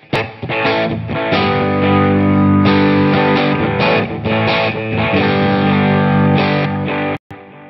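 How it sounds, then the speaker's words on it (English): Electric guitar played through a HeadRush Gigboard with distortion and reverb set to a medium room, sustained chords ringing loudly and continuously before a brief cut near the end. "go over to the reverb here and actually change it from big theater to possibly something that's a little more controllable, like a medium-sized room"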